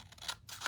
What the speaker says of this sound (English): And now I'm going to cut